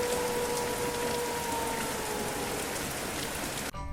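Steady heavy rain pours down in a Kalbaishakhi storm, a dense, even hiss of drops on surfaces that continues without pause before cutting off abruptly at the end.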